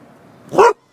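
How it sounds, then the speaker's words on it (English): A single short, loud dog bark rings out near the microphone after a moment of quiet background hum, during an outdoor lockpicking session with a pet present. "Yeah, it's another dog."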